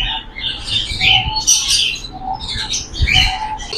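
Fancy and imported birds in a bird shop in Multan, Pakistan, chirp, tweet and coo together in a busy, overlapping chorus that stays fairly loud throughout, with no voices.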